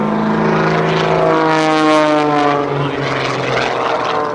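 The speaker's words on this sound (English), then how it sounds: "Note the precision as Jim climbs off the top, utilizing the Bulldog's 400 horsepower engine" A Pitts S2B aerobatic biplane with a 400-horsepower engine performs at a military air station airshow, its propeller engine roaring loud and close with a sustained drone that shifts pitch as it maneuvers.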